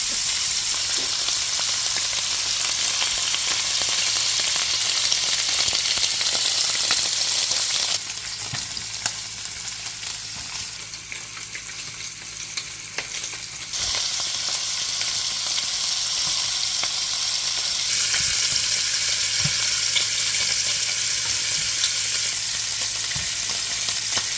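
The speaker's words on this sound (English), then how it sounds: "So I'm going to go in with my sausage now. I'll let my sausage just cook up." Beef sausage fries in a pan with a continuous dense crackling sizzle, loud and close, easing briefly quieter for a few seconds before returning to full strength, no voices.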